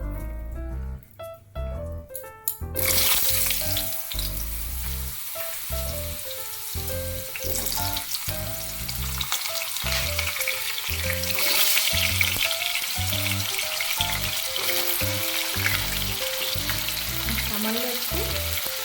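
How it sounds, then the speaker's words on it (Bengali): Potato frying in hot oil seasoned with a pinch of salt, with a loud, continuous sizzle that starts abruptly after a few seconds of clattering and carries on with rhythmic stirring scrapes throughout. "আলুটাকে ভেজে নেব।"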